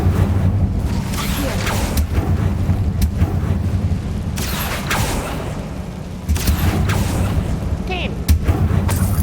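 An Incendio fire spell cast in Hogwarts Legacy bursts out as loud roaring, crackling blasts of flame amid dense combat noise, with booming surges repeating over several seconds.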